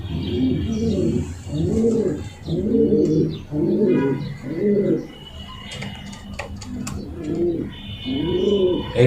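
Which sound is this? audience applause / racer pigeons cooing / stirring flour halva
racer pigeons cooing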